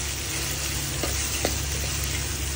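Tomatoes added to onions frying in a pan in a Bangladeshi kitchen while cooking loitta fish, a steady dense sizzle throughout with a couple of faint utensil knocks, close and even.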